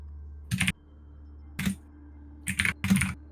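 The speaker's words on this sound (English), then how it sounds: "Someone has furious typing." Short bursts of rapid clacking keystrokes on a computer keyboard, four separate flurries with pauses between, close and fairly loud over a faint steady hum, with no talk.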